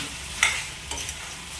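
Sarudu pala curry being stirred and mixed in a pan, with a couple of scraping strokes over a steady low sizzle.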